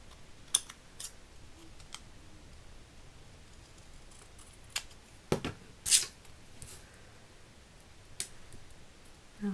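Sharp scissors snip through paper while a birth card is cut out by hand, giving scattered quick clicks and cuts in an otherwise quiet room.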